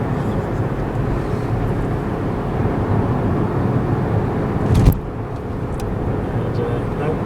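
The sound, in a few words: Hyundai petrol car engine revving at 4,000 rpm in third gear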